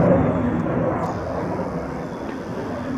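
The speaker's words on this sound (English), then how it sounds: "as that plane sails off into the wild blue yonder" Airplane droning off into the distance over a wildlife refuge, a broad rumbling roar that gradually fades, heard alone at moderate loudness.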